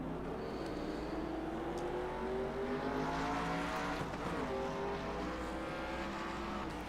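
Race cars lap the Mid-Ohio circuit in a national series event, their engines blending into a continuous roar with rising and falling pitch as cars pass, heard from a distance.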